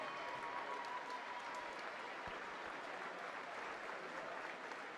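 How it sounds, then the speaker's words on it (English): Steady crowd applause at an indoor swimming meet as a swimmer finishes her race, continuous clapping from many spectators at an even, moderate level throughout, with a faint tone running underneath. "Everybody clapping her all the way through to the end"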